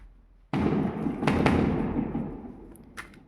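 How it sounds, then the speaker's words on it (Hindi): A sudden loud burst of firecrackers goes off, followed by a long crackling, fizzing rattle with a few sharper pops, fading slowly over a few seconds. "यहाँ पे पटाखों की आवाज़ आई होगी"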